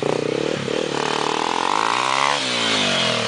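A motorcycle engine revs hard while the bike climbs a very steep wall, a loud, close, rising and falling roar with rattling that peaks and then eases off near the end.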